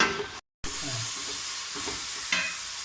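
Chopped shallots fry in a pan for Kerala-style chicken curry, a loud, steady sizzle with stirring scrapes and a brief gap of silence near the start.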